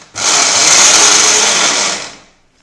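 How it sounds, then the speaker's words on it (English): A kitchen grinder coarsely blends coconut, green chili and curry leaves, a loud steady whir that starts abruptly, holds for about two seconds, then spins down. "Now we have to grind this coarsely and not to a fine paste."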